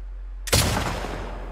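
A single loud rifle shot fired at a red sign in The Last of Us Part II, a sharp blast after silence that trails into a long rumbling echo.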